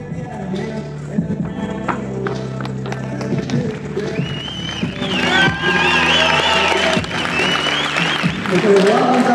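Home crowd at a Muay Thai boxing event in Dubnica applauding and cheering a fighter, the clapping and shouts swelling louder in the second half beneath an announcer's voice.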